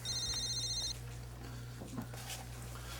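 A telephone rings with a brief electronic trill at the start, then stops, leaving a low steady hum of indoor background noise with no speech.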